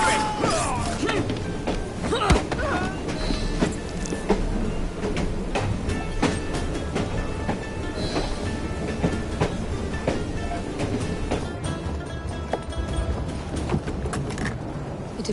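A train in the video game Assassin's Creed Syndicate rumbles along with loud, continuous rolling noise, rattling metallic clatter and clicks of the wheels, sustained and close throughout.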